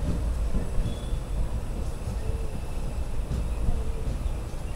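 The Simhadri Express runs between Visakhapatnam and Guntur, heard from inside as a steady low rumble with constant rattling and wind noise throughout.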